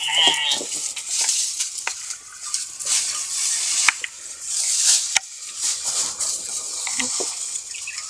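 Sheep and goats bleat repeatedly in a farm setting, with several calls overlapping amid scattered clatter and patter, heard close by without speech.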